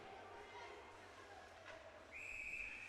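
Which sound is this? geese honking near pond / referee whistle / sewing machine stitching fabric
referee whistle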